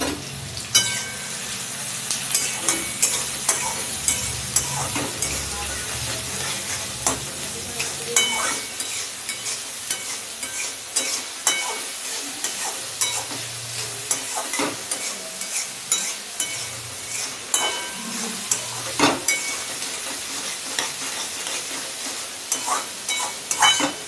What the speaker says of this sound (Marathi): कांदा, लसूण आणि अद्रक लसूण आता आपण तेलात भाजून घेणार आहोत।